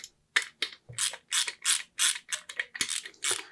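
A screw is worked loose while a brushcutter is taken apart, giving a rapid run of close, crisp ratcheting clicks in even bursts, with a couple of low knocks.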